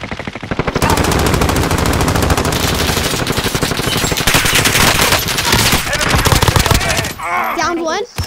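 Sustained rapid automatic gunfire from the video game Call of Duty: Modern Warfare, loud and close, pounding almost without pause for several seconds before cutting off, with a brief voice at the very end.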